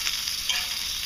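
Clam and oyster meat sizzles in a hot pan, a steady close frying hiss with small crackles, alone with no voices.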